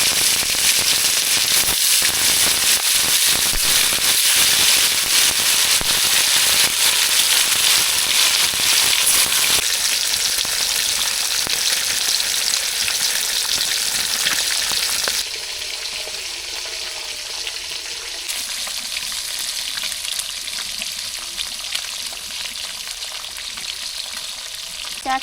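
Silver carp pieces are frying in hot oil in a kadai, a loud close sizzle with crackling spatter that calms somewhat after the midpoint and continues without talk.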